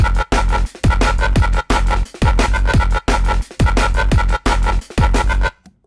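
Heavy growling neurofunk synth bass made in Phase Plant, chopped into stuttering bursts with abrupt gaps between phrases, a loud rhythmic start-stop pattern that ends with a short tail.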